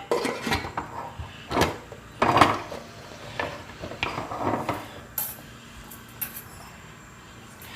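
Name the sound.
closing pressure cooker lid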